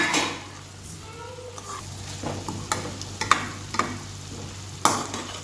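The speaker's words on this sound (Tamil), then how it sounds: "இதையும் நல்லா சேர்த்து ஃப்ரை பண்ணணும்." Ingredients for semiya kichadi, carrots and peas already cooked, are stirred and fried in a pan, with soft scraping and clinks of a spoon against the metal, a few sharper taps standing out over a quiet background sizzle.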